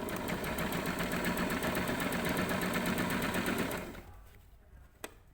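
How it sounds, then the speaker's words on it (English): Sewing machine stitching a fabric seam on a V-neck garment sample, a steady, fast mechanical whir that runs loud and continuous for nearly four seconds, then stops, leaving faint room noise and one small click. "And then I can stitch the rest of the way, making sure my 2 raw edges are perfectly lined up."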